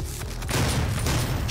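Rocket fire in DOOM roars out as a loud, continuous barrage of booming blasts with no talking over it.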